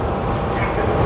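Ranggajati passenger train easing into Jombang station, a loud, close, steady rumble of rolling carriages with a faint high whine over it.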